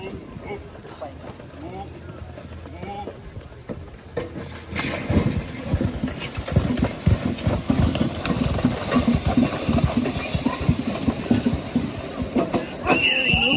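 At a horse pull in Bitely, a draft horse team drags a weighted sled carrying people, hooves clip-clopping in a steady, growing rhythm under a loudspeaker announcer and crowd noise.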